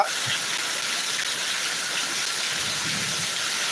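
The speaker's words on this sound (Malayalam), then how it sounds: "തിരുവനന്തപുരം ആറ്റിക്കലാണ് ഒരു കിടിലം അടിപൊളി മഴ പെയ്യുന്നത്" Heavy rain pouring down at Attingal, Thiruvananthapuram, a steady dense hiss that holds at an even loudness from start to end with no talking over it.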